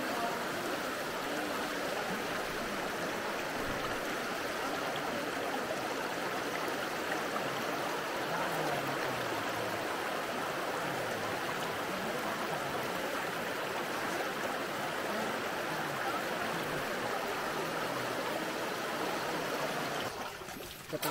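Strong river current rushing steadily along a second river crossing on the trail to Tibag Falls in Bacungan, Puerto Princesa, Palawan, a loud continuous broadband wash that holds throughout.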